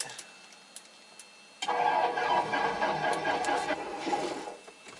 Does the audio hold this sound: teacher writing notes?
no